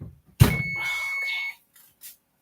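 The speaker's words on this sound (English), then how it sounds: "Let me turn off the timer." A kitchen oven timer goes off while chocolate chip cookies bake. It gives one clear, sustained electronic beep lasting about a second, just after a short knock, then falls quiet apart from a faint brief sound.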